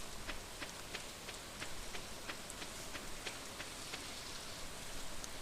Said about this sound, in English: I do love the sound of the rain in this game.